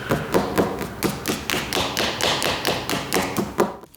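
Knuckles tap repeatedly on a wooden yacht table over a hollow patch beneath the surface, a steady run of close, dull, hollow knocks about three per second.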